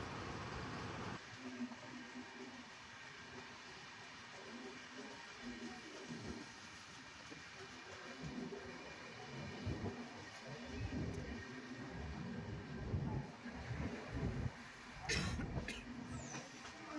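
Padatik Express pulling slowly into Malda Town station in the early morning, heard from inside a coach as a low rumbling roll with faint clicks and a brief squeal near the end.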